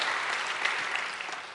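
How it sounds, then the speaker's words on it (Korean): A church congregation at a Wednesday service claps together to welcome a newcomer, a steady, fairly quiet wash of applause lasting the whole moment. "뜨거운 박수로 환영하겠습니다"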